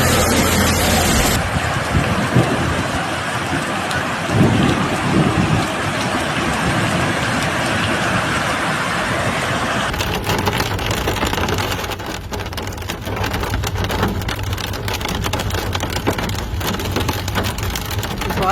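Heavy rain pours steadily during a storm in Valencia, Spain, a dense continuous hiss with low rumbling underneath and no voices.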